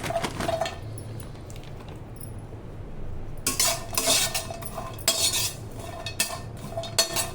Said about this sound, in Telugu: ఇవి కూడా తీసుకొని బాగా ఫ్రై చేసుకోవాలి